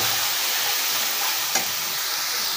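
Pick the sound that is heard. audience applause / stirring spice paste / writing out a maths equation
stirring spice paste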